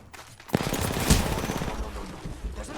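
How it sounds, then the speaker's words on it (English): Heavy automatic gunfire from an enemy team rattles through an Apex Legends match. It opens with a sharp crack, then becomes a dense, continuous stream of rapid shots, loud and close, with no voices. "We're getting shot from a different team now."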